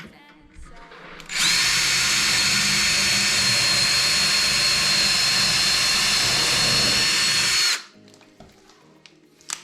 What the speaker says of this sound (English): And then drill a hole.